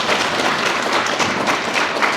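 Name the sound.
meeting attendees clapping to pass a proposal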